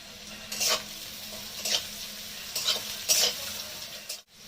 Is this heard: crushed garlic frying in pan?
yes